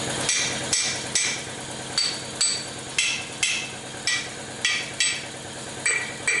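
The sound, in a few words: hammering a 4R70W transmission tailhousing bushing to widen it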